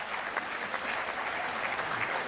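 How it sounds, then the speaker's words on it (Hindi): Audience applause at a poetry performance by poet Sunil Sahil in Pune: a brief burst of dense clapping from a seated crowd, even and moderately loud, with no voices over it. "अच्छा, तालियां वालियां बजाएं तो खुल के बजाएं।"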